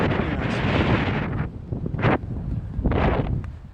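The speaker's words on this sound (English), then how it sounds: "it's pretty windy out there" Strong wind at Lake Russell buffets the microphone in loud, roaring gusts, with two sharp surges separated by quieter lulls.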